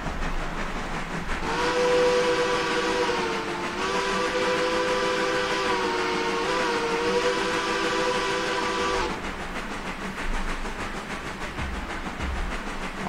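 A freight train pulls away in the railroad simulation game Railroader, its steam whistle sounding a long, steady tone for several seconds over the continuous rumble and clatter of the moving cars.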